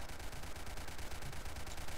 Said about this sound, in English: There's so much gunfire